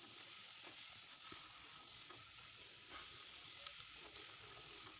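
Turmeric and salt frying in a pan, a faint, even hiss of hot oil sizzling steadily throughout, with a few soft stirring touches.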